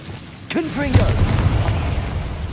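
A Confringo fire spell blast erupts in the Hogwarts Legacy video game, a booming burst followed by a rumbling fiery roar that lingers, with a brief shouted spell call at the start.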